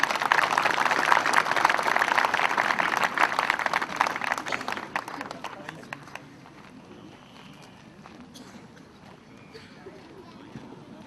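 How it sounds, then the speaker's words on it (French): Applause from an audience rings out loudly, then fades to scattered clapping and quiet murmur after a few seconds. "Des applaudissements."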